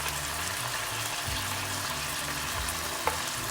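Instant noodles with chicken and prawn stir-fried in a pan give a steady close sizzle and frying hiss, with low scraping stir strokes and one sharp clink near the end.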